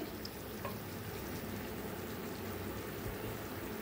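A chapati roasts on a hot pan with a steady, close, soft sizzling hiss that continues evenly throughout, with no talking.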